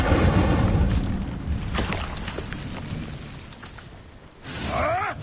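An Incendio fire spell cast in Hogwarts Legacy bursts with a loud, booming whoosh at the start, then trails off into a softer rumbling crackle before a brief rising swell near the end.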